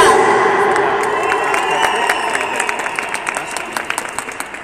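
Live crowd at an evening music event in Ecuador cheering and shouting loudly, a steady roar of voices with scattered claps and whoops that thin slightly toward the end.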